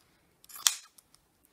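Scissors snip through fabric scraps in one quick close cut followed by a few faint clicks of the blades, quiet and isolated.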